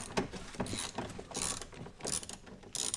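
Close-up ratchet clicks while loosening the window bolts on a Chevy Malibu Maxx, several quick bursts of rapid pawl clicking separated by short pauses, with no talking.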